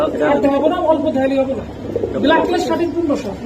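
Lahori Giribaz pigeons at a market stall give repeated soft, throaty cooing, close and loud, with people talking over the calls.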